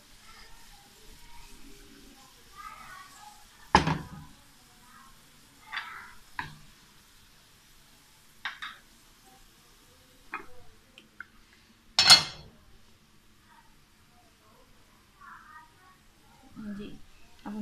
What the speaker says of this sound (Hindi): जी अब हमने प्याज को निहारी में शामिल कर देना।